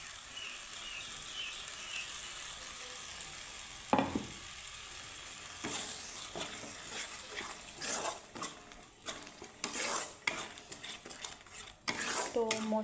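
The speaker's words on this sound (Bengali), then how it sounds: "তো মশলাটাকে আমি একটু কষিয়ে নেব। আর এখানে আমি দিয়ে দেব একটা টমেটো, সামান্য আদা, আর এখানে 4 কোয়া রসুন পেস্ট।" Spice paste with tomato, ginger and garlic frying in a pan, a constant sizzle under repeated irregular clanks and scrapes of a spatula against metal, close, with faint background noise and no clear talk.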